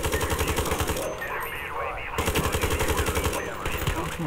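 Rapid automatic gunfire from the online shooter game Ironsight, loud, sustained bursts of closely spaced shots with a brief lull in the middle, while someone talks excitedly over it.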